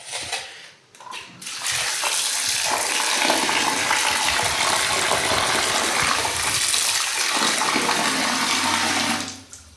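Fish being washed by hand under a strong stream of running water from a tap for curry preparation, a steady close gushing splash that lasts most of the clip before stopping.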